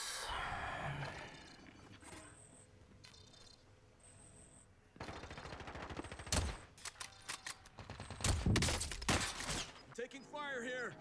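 Gunfire from the video game Call of Duty Cold War Warzone, with bursts of rapid automatic shots in the second half, loud and close, mixed with other game effects and a voice talking.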